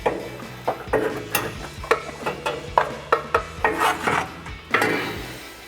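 Stock cat-back exhaust pipe on a Ford Bronco scraping and clanking as it is worked out from under the skid plate, a close series of rasping metal scrapes and knocks in an irregular rhythm, with no talking.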